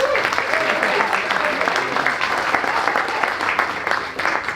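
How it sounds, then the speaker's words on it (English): An audience at a chamber of commerce breakfast applauds continuously, a dense round of clapping from a roomful of people, with a voice faintly audible underneath. "Give them a round of applause, Rebel on the Breeze."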